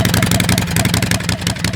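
A Predator 670cc engine idles on an auto chopper motorcycle with a loud, close, steady rhythmic putter and low throb that holds even throughout the short stretch, with no talk.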